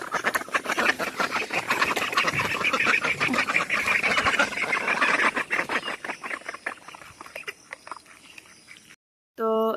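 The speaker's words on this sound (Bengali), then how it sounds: "তো এই হলো আমার হাঁস।" A small flock of eight domestic ducks, just let out of their coop, quacks loudly and continuously in a dense overlapping chorus nearby, then thins to scattered calls before an abrupt cut.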